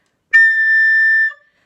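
A whistle overblown on its low D gives a single harsh, squeaky, piercing high note that holds steady for about a second before cutting off, loud and close with silence around it.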